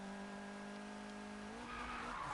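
A fully upgraded Lamborghini in Need for Speed 2015 slides sideways with a sustained, loud tire squeal over a droning engine, the pitch shifting partway as the skid carries on.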